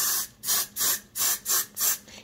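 Hairspray from an aerosol can sprayed in six short, evenly spaced bursts, each a loud close hiss with brief pauses between, used to coat a homemade stress ball.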